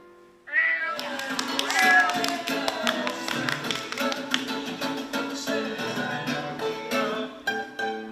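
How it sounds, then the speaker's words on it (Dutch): A cat meows a few times over playful background music in a Dutch children's song, the meows rising briefly near the start amid tapping and busy accompaniment. "Kijk dan, een kat."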